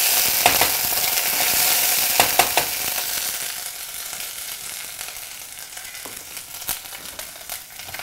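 Cashew pieces and spices sizzle steadily in a hot oiled pan, with scattered scraping clicks from a spoon stirring through the mixture. The frying is close and continuous, with no talk.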